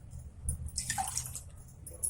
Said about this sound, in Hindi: आधा गिलास पानी मैं और डाल दे रही हूँ।